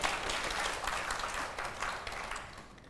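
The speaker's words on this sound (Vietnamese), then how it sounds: "mọi người có thích thì vỗ tay ủng hộ lên này" An audience at a Vietnamese show claps and applauds steadily for a few seconds, a dense, even wash of hands that fades slightly toward the end.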